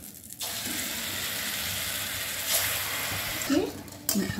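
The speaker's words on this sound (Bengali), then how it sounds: "এবার দেখুন আমি বড়াগুলো ভেজে নিচ্ছি।" Fritters (bora) frying in hot mustard oil in a wok, giving a steady, fairly quiet hiss and crackle that runs throughout, with a few clinks from utensils toward the end.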